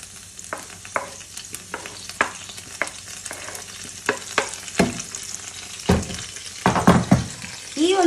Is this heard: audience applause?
no